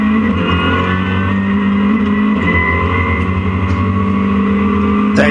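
Race cars at Donington Park circuit heading into Redgate, with a loud, sustained engine roar as several cars run close together through the corner.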